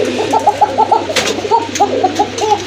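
A pair of koka pigeons offered for sale coo close by, loud rhythmic rolling coos repeated in quick runs with brief pauses between bursts.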